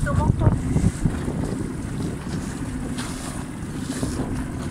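Steady wind rushes over the microphone aboard a small Optimist sailing dinghy, with water sloshing against the hull throughout; a brief distant voice is heard near the start.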